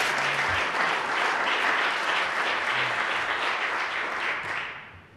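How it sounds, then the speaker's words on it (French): Applause in a parliamentary chamber, a dense sustained wash of many hands clapping at once, holding steady before tapering off near the end. "Je vais prendre les applaudissements pour moi"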